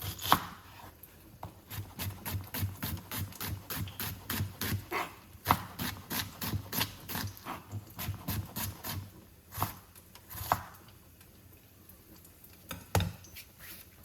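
A knife chopping onion on a board, quick rhythmic runs of crisp close taps, then a few scattered single cuts, fairly quiet with no talk.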